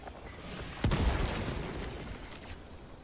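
A grenade blast in Helldivers 2 gives one sharp, loud boom with a short rumbling tail, heard over steady in-game ambient noise.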